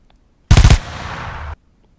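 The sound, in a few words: rapid gunfire of a muzzle flash effect demo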